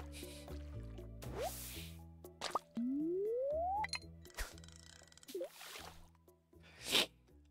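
Fishing in Stardew Valley: watery plops and drips, a rising reeling whine, short zippy line sounds and a splash near the end, over quiet layered game music.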